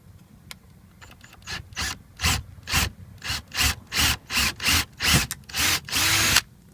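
A power drill bores into the plastic of a Ford Fiesta ST wheel arch while mud flaps are fitted, about a dozen short, loud whirring bursts in quick succession, close up, with no talking.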